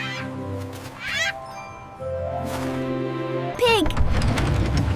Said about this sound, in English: It's an Adelie penguin.